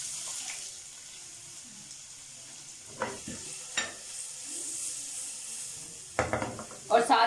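Carrots fry gently in a little oil in a pan, a soft low sizzle punctuated by a few louder scraping stirs and clatters, with a busier burst of stirring near the end.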